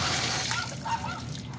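Water rushes steadily through a home water pump setup with a check valve just after the pump switches on, a faint, continuous flowing hiss with no speech.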